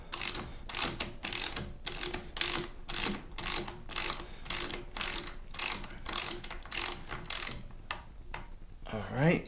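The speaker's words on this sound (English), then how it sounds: "So we're gonna unscrew this Allen bolt, take it right off." A ratchet unscrews an Allen bolt on the air filter cover of a Harley-Davidson Screaming Eagle, giving close, rapid clicking bursts in a steady back-and-forth rhythm with a brief metallic rattle at the end.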